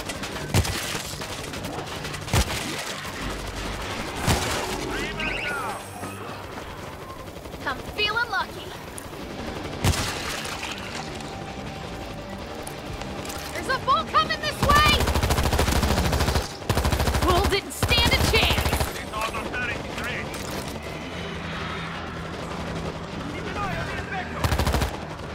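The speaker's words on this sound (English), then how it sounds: "Keep an eye on this auto turret!" Automated turret in World War Z: Aftermath, defending against zombie hordes in Rome, rattles off long bursts of loud gunfire, joined by other weapons, with heavy sustained barrages midway and shouted voices in between.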